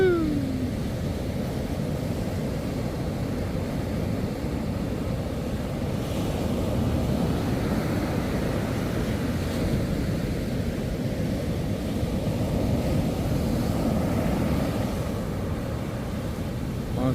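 Ocean surf washes through near a beach while a small boat rides big water off the coast, a loud continuous roar of breaking and foaming waves mixed with heavy wind rumble, no voices.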